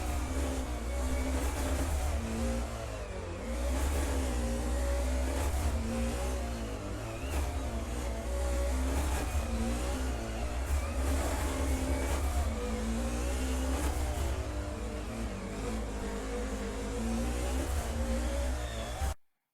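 Racing car engine in Assetto Corsa on the Hakone Nanamagari mountain road, revving hard and steadily with shifting pitch as it accelerates and brakes through corners, loud and continuous throughout.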